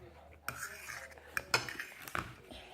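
Cutlery and dishes clink during a family meal at home, with several sharp clatters and taps scattered over a few seconds against a quiet background.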